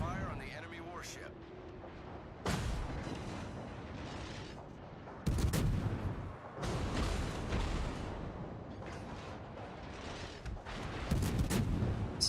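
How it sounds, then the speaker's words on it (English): Warship guns from the Atlanta firing in a naval video game replay: repeated heavy booms arrive in bursts over a steady rumbling game background, with voices heard at times. "Concentrate fire on the enemy warship."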